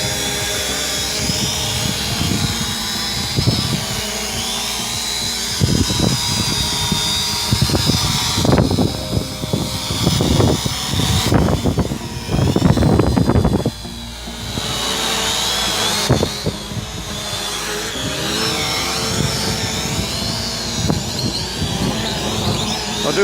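Eachine E520S GPS drone flying nearby with a steady high-pitched buzz that shifts in pitch as it maneuvers, with wind rumble and handling noise beneath.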